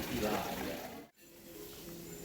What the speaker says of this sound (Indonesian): Ini juga masih di sekitar area kolam ikan, kedengaran ya gemericik suara pancuran airnya.